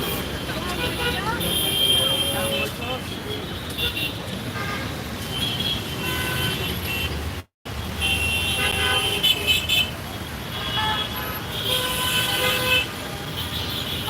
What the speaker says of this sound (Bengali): আজকে দেখেন ঢাকা শহরের রাস্তা